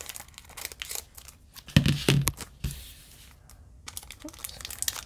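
Scissors snipping and crinkling the plastic wrapper on a Pokemon card stacking tin, with short crisp cuts and rustling plastic, close and fairly quiet, tapering off into lighter handling sounds.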